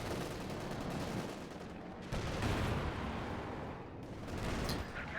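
Aircraft strafing-run gunfire in a WWII strategy game, a dense, continuous rattle of fire with loud surges, close and heavy throughout.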